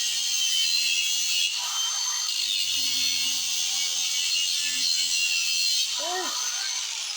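An angle grinder fitted with a cutting disc scores lines into metal for forging a rope twist, giving a loud, bright, sustained whine that holds steady for several seconds, with a brief pitch drop as the disc bites near the end.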